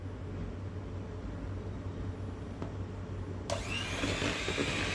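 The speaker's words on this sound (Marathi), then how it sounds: "पूर्ण मिक्स झाल्यावर मग बीटर आपल्याला ऑन करायचं आहे। ऑन करून पुन्हा मिक्स करून घ्यायचं आहे।" An electric beater whirs steadily as it mixes sugar, powdered sugar and ghee, a continuous close motor hum that grows brighter and a little louder toward the end.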